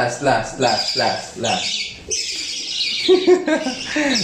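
Pigeons and lovebirds call during free flight training, with close, busy chirps, squawks and tweets overlapping throughout.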